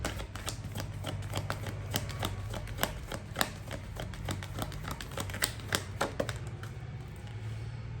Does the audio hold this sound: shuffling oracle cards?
yes